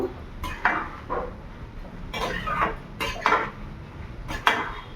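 Bottle gourd and shrimp curry being mixed in a pan, with a utensil scraping and clinking against the metal in several short, moderately loud bursts and no talking.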